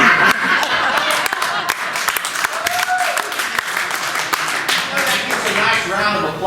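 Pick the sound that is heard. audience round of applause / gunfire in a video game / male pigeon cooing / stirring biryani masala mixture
audience round of applause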